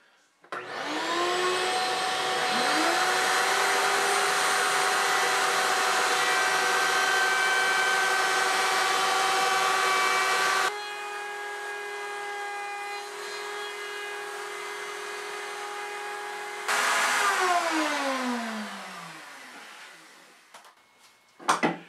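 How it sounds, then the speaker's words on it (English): A router fitted with a roundover bit eases the edges of a wooden shield: a loud, steady motor whine spins up, drops in pitch and load partway through, then winds down near the end, with no talking. "I swapped out the bit for a roundover so I can ease over the edges."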